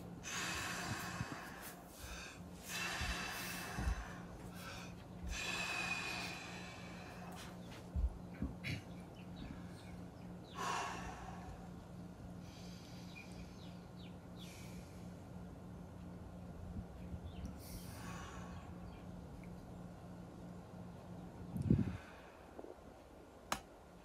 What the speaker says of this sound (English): and recovery breathing